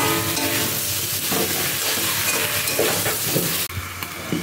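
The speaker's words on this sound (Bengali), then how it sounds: "এবারের মধ্যে ভেজে রাখা আলু আর এঁচোড়টা দিয়ে দেবো। এঁচোড় করে গেছে, এটাকে ভালো করে কষাতে হবে।" Fried potato and jackfruit are stirred hard in spice masala, a loud, dense sizzle layered with continuous scraping and clatter of a spatula in the pan, easing slightly for the last moments.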